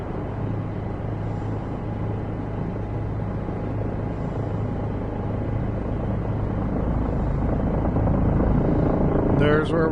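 A Puma helicopter hovering in a flight simulator game, with a loud steady rotor and turbine rumble that grows slightly toward the end, with a short voice at the very end.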